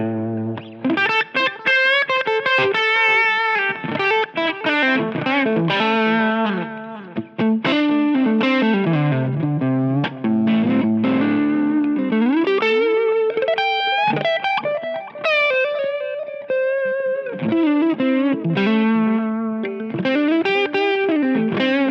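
Electric guitar through a Line 6 Helix German Mahadeva amp model and Bogner cab with a dynamic mic, playing a distorted, sustained chord-and-lead passage at stock settings, loud and steady with no talking.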